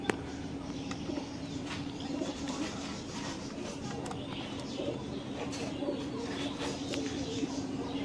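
Punjabi Malbai pigeons in a breeder's loft in Nabadwip give soft, steady cooing that runs without a break through a continuous low hum, close by and fairly quiet.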